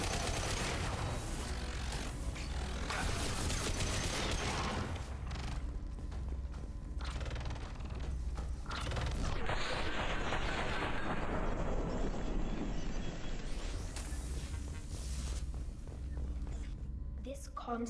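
A gun fires in Mass Effect 2 (Legendary Edition) in repeated bursts amid clanking mechanical game noise and booming impacts, with voices speaking over the action.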